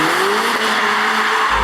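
A Mercedes-AMG A45 S drifting in drift mode, tires squealing in a sustained rising screech over the loud revving engine, all close and continuous.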